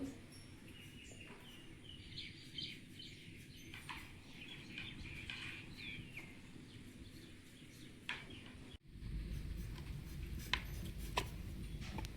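Vegetables being cut with a knife: faint, scattered chopping taps in a quiet kitchen, with birds chirping softly in the background.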